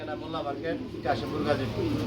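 Pigeons coo softly among a large collection of breeding pairs with eggs and chicks, their low murmuring calls running continuously under someone talking nearby.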